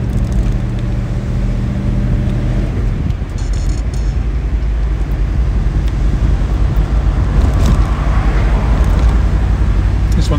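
A 1974 Triumph Stag Mk2 with manual overdrive drives along, its engine giving a steady low rumble mixed with road and wind noise throughout, loud and close.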